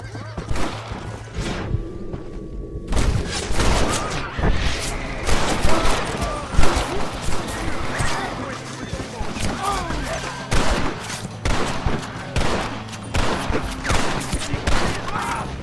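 Rapid rifle shots crack in bursts during a robbery in the Red Dead Redemption video game, loud and repeated, mixed with horse whinnies and occasional speech.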